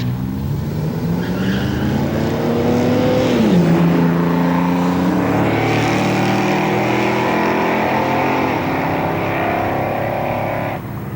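Drag race launch between a 1982 GMC S15 with a 4.3 liter Vortec V6 and a 1963 Chevy II with a 327 cubic inch V8: loud, close engines roar and rise in pitch through gear changes over sustained full-throttle runs.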